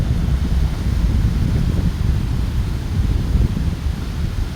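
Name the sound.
wind blowing at Las Cuevas Beach, Trinidad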